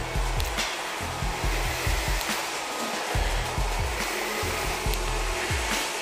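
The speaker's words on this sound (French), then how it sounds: "Là voilà la machine qui passe sur le viaduc." An electric model train locomotive rolls across a viaduct on a layout, its motor whirring steadily under a regular rhythm of low clicking pulses from the track, close and continuous.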